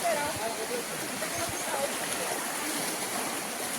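Water rushes steadily under a net or weir in a forest stream in Kondapaka forest, a continuous broadband hiss and gurgle close by, with no voices evident.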